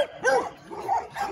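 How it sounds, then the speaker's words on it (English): A protective pitbull at a gamebred kennel yard in Mississippi lets out three quick, close barks in a tight row, alone with no talk. "This is an intense dog."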